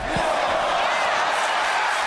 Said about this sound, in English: Never have I heard a crowd this loud before in all my years